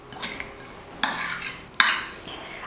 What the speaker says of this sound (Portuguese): Aqui agora é só ir misturando. Tem que envolver todo o arroz.